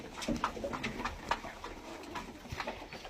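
Pigeons kept at home, including racing and local breeds, coo and rustle in a loft, with soft repeated calls and scattered bird noises over a busy background.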